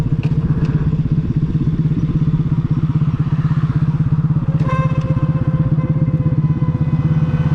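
A Romet Ogar moped being ridden, its small two-stroke engine buzzing in a loud, rapid, steady close-up putter throughout, with a brief higher whine near the end.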